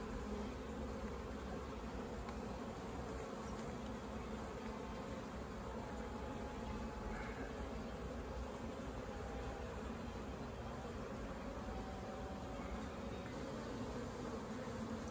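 Honeybees buzzing steadily over an opened hive during a colony split, a dense continuous drone filling the air at moderate volume with no voices.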